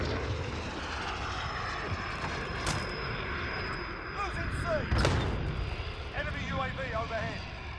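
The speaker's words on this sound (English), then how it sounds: "Enemy VTOL in the AO." Enemy VTOL aircraft in Call of Duty Modern Warfare roaring overhead, a loud sustained engine drone mixed with sharp gunfire bursts and radio chatter voices.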